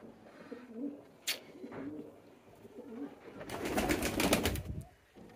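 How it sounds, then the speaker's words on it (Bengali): A pet pigeon held gently in the hands gives soft, close cooing calls, followed by a brief burst of flapping or rustling. "আমি আলতু করে ধরছি কবুতরকে"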